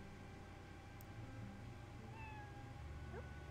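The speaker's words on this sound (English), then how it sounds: "Where are you going, kitty?" A cat in the Another Eden video game meows a few times, quiet and drawn out, over a steady low game soundtrack hum.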